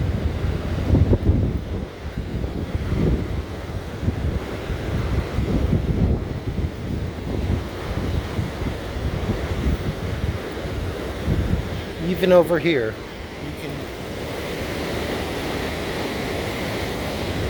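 Loud, continuous rushing river water roars close by near the American Falls at Niagara Falls, with wind buffeting the microphone, and a person speaks briefly over it.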